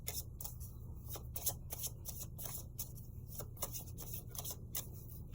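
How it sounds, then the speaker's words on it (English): Tarot cards are shuffled close up, a quiet run of rapid riffling bursts and soft slaps repeating through the whole stretch. "I'm going to shuffle"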